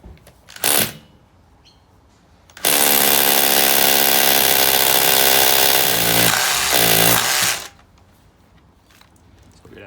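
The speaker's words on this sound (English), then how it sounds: "Has to be on a hammer and drill action." Hammer drill with a 10mm masonry bit boring into a concrete slab during deck construction, heard close and loud as one sustained burst of about five seconds, with a brief short burst before it.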